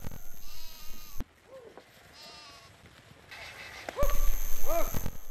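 Sheep and goats bleat repeatedly in a valley, several wavering calls from nearby animals spread across the clip, louder toward the end, over faint background ambience.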